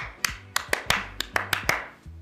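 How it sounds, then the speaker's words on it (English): Film crew on a set clapping together in double claps: sharp hand claps in quick pairs and singles, about eight in all, close and crisp over a quiet room. "everyone will do the double clap"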